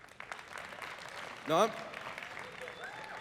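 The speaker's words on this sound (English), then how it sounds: "That applause means a lot." An audience applauds at a talk, the clapping steady and moderately loud with speech over it and a brief voiced burst midway.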